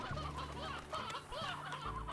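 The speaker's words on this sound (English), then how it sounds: "let me also clear out some of these chickens" Chickens cluck in the video game Slime Rancher with a busy run of soft overlapping clucks and short calls, fairly quiet and close.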